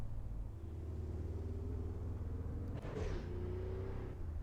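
Engine drone of AI cars cruising city streets in the Assetto Corsa racing game, a steady low rumble with a brief louder swell as one passes close.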